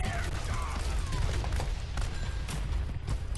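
Rapid bursts of grenade explosions and gunfire in Overwatch, dense crackling booms packed close together over a chaotic battle din, loud and continuous.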